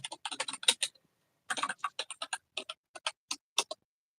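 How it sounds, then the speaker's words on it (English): Computer keyboard typing: a quick flurry of clicking keystrokes, a brief pause, then slower, spaced individual taps, close and fairly quiet with no talking. "typing"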